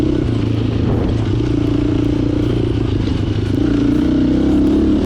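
Small moped engines drone and rattle continuously nearby, a steady buzzing motor sound that swells slightly toward the end.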